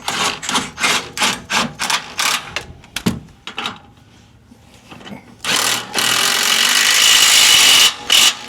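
Factory bolts are driven into an aluminum skid plate bracket on a Ford Bronco with a power tool in quick repeated bursts, close and loud, then a pause and a longer sustained whir.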